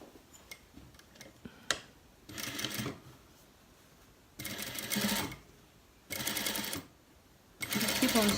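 A sewing machine stitches around a dress hem at a 1.2 cm seam allowance, running in four short bursts separated by quiet pauses with small clicks of handling, close and moderately loud.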